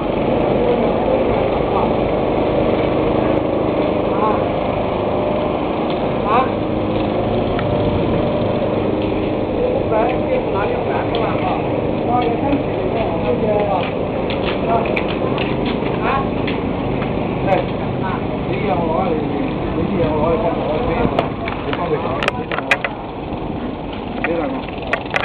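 A new boat's engine drones continuously on its first launch in a windy harbour, a steady close mechanical hum beneath wind noise, while several people chat and call out throughout.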